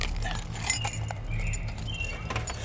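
A bunch of keys jangles close by in a few quick metallic rattles and clinks over a low background rumble, with no speech.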